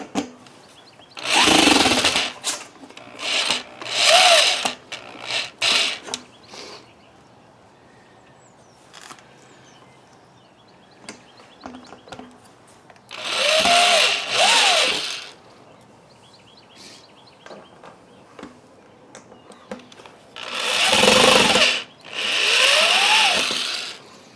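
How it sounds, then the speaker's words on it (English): A power drill whirs in repeated short bursts tightening a funnel on a Wildgame Innovations Quick Set 225 tripod feeder, pitch rising as it spins up, with quiet clinks and handling noises between runs. "And I'm just going to use a regular drill on this."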